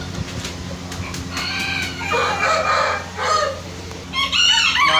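An Aseel rooster crows close by in a couple of strained calls, mixed with clucking and barn noise.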